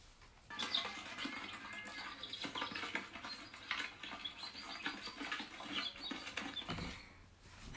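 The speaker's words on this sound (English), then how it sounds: "It's a chick sound." Faint, high-pitched chirping from a small bird, rapid and scratchy, with soft rustling in the background.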